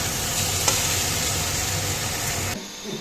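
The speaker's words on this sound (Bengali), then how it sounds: "অল্প পেঁয়াজ কুচি দিয়ে ভাজছি আর কি জিনিসটা" Chopped onions sizzle in a hot pan during home cooking of a fish curry, a steady loud frying hiss that runs unbroken for most of the clip before dropping off sharply near the end.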